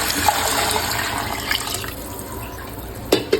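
Water from ten tumblers is poured in a steady, splashing stream into a cooking pot for mint rice made with bullet rice and peas, close and continuous, tapering off near the end with a couple of brief clinks.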